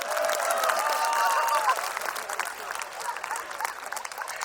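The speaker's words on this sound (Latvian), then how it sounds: "aplaus Valteram!" An audience at a Jaunpiebalga stage event applauds for Valters, with dense, steady clapping that swells and then thins, while voices carry faintly beneath it.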